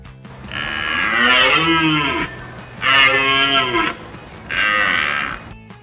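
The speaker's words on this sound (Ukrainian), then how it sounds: "Це олень." A deer bellows three times, each a loud, drawn-out groaning call, the first two longest and the last shorter, separated by brief pauses, with no talking.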